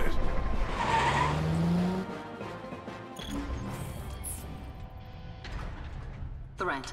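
A car skids in Final Fantasy XV, a loud screeching tire squeal and engine roar at the start that fades into quieter game sound effects, with a voice speaking over it.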